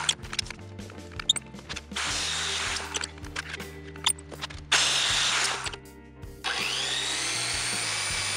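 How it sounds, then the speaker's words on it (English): A saber saw cuts 6061 aluminum bar blanks in loud bursts of harsh buzzing, separated by short pauses and clunks as the work is repositioned. "I started by chopping off blanks with a saber saw."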